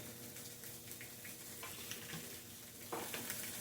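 Steak searing hot in a pan with a little smoke, a steady close sizzle and crackle running throughout, with a few utensil ticks and a brighter burst of spitting near the end; no talking.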